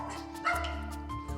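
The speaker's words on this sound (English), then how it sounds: "Everybody barks, because it's normal." A dog gives a short, close yip or bark, one sharp burst within a brief moment, with faint whimpering tones around it.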